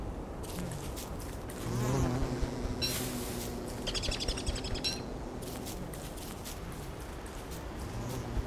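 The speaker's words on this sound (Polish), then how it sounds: "pszczoła." Bees buzz in the video game Don't Starve: Reign of Giants, a fluttering drone over a busy game soundscape with chirpy bird-like calls mixed in.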